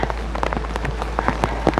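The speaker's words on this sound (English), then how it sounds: "I guess we'll get some respite from the rain." Rain falling at Himeji Castle in Japan, a steady patter of drops with scattered sharper splats, close and continuous with no voices.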